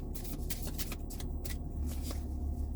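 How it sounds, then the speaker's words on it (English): A deck of cards is shuffled by hand in quick riffling bursts, close and soft, with no talking. "I'm gonna shuffle one more time."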